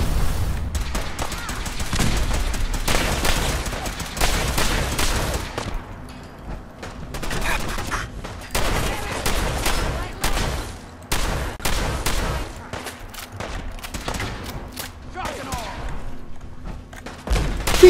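Gunfire in a Fallout 4 firefight: loud, dense bursts of automatic fire and single shots with thuds and booms, coming in waves with brief lulls, close and dominant throughout.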